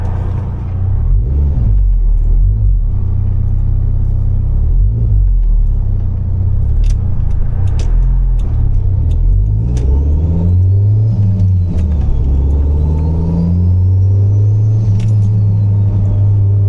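A Toyota MR2 Turbo engine accelerates while driving, a loud, close rumble whose pitch sweeps up and drops with each gear, running steadily throughout without any talking.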